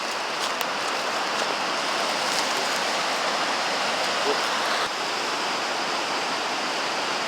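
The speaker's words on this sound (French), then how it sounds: "j'ai repéré un cours d'eau qui m'a l'air vraiment pas mal" A flowing stream rushes in a steady, dense wash of water noise, close and unbroken throughout with no talking.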